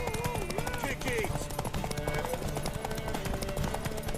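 Rapid horse hooves gallop in a driving rhythm beneath shouting voices and busy background noise, during a horse race in the video game The Witcher III: The Wild Hunt.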